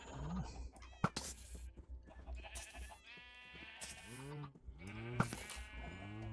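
Several sheep bleat in the video game Minecraft, with repeated wavering cries close and clear, mixed with other game sounds and a voice talking over them.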